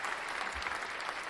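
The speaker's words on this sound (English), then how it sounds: "let's clap it up for him, chat" Steady applause from a crowd clapping continuously, dense and even throughout, with no talk over it.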